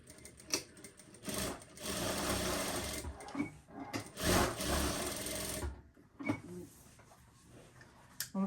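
A sewing machine stitches a zipper onto a handmade bag in bursts of close, rapid mechanical whirring. The runs start and stop several times, with short pauses and handling noises between them, and nobody talks.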